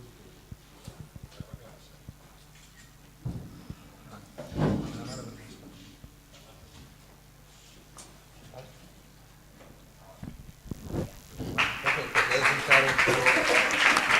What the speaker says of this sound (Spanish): acaba de tomar posesión y recibe los aplausos de los integrantes de la corporación, el nuevo concejal ya, Pepe Sánchez